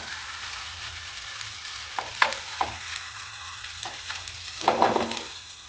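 Egg frying with onions in a pan over a medium flame, giving a steady low sizzle with a few soft scrapes and stirring clicks from a utensil.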